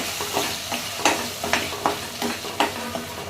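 Onion and coconut paste frying in a pan for chicken vade, with a steady sizzle broken by regular scraping stirs about every half second, close and moderately loud, no talking.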